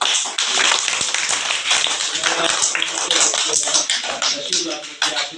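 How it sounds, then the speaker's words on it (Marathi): Students applauding their teachers during a school visit, a dense, continuous patter of many hands clapping close by for several seconds, with crowd noise mixed in. "तुमच्यासाठी टाळ्या वाजवा सरांसाठी"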